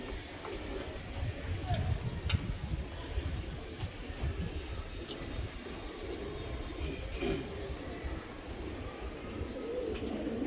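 Giribaz racing pigeons coo softly at close range, low repeated murmurs over a dense, rumbling background, with occasional faint clicks and a little distant talk.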